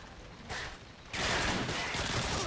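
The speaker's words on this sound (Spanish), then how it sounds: "Pertur me está disparando ahora" Bursts of gunfire from the video game Call of Duty MW2 on the map Storm, with a short volley followed by a louder, sustained stretch of rapid shots at moderate distance.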